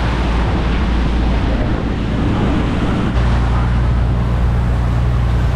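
Choppy open-sea waves slap against a small boat heading out past the coast toward the Pacific, a steady loud wash mixed with engine drone and wind buffeting the microphone, with no talk.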